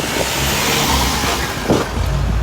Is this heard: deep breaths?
no